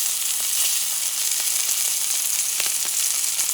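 American buffalo sirloin steak sizzles steadily in a pan with thyme and a garlic clove, a constant bright hiss with faint pops and no talking.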